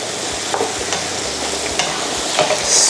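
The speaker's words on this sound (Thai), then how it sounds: "เพราะจริงๆ เนี่ยถั่วงอกเนี่ย ผัดไปสักแป๊บหนึ่งหยดน้ำมันจะออกมาแน่นอนครับ" Bean sprouts hiss and crackle in a hot wok, with repeated scraping stirs of a spatula giving an uneven rhythm over a close, steady frying sizzle.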